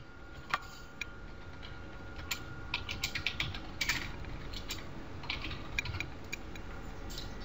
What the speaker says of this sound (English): Now as I continue to type,